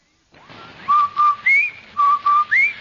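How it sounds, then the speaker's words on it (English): A clear whistled jingle of short rising and level notes in two matching phrases, the Rinso White radio advertising whistle, loud and close with no talking. "That's the Rinso White whistle."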